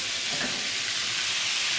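Green cucumbers stewing in a pan with lemon juice and dill give off a steady, close sizzle and bubbling hiss, with faint stirring under it throughout and no voices.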